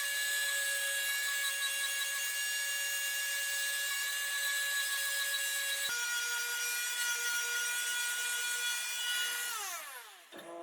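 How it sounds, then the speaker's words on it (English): Laurel wood spinning on a lathe while being sanded, a steady high whine with strong ringing tones that holds evenly, shifts partway through, then winds down as the lathe slows near the end. "Sanding took nearly all day before all the defects in the wood were removed"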